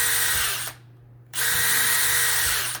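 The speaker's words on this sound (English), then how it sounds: "If you wanna make it easier to pry, make some weak spots with the drill bit." A power drill bores weak spots into a wheel with a drill bit for a Cloud Wheel donut set on a Meepo board, whining loudly in two bursts split by a short pause, with low motor hum beneath.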